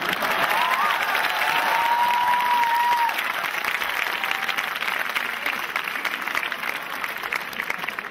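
A large audience at a motivational talk breaking into sustained applause with some cheering and a whistle, loud and dense throughout, slowly easing toward the end.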